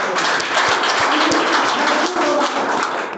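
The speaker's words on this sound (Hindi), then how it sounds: "एक जोरदार तालियां हो जाए" An audience gives loud, sustained applause at a product seminar, a dense wash of clapping that holds steady throughout with a few sharper claps standing out.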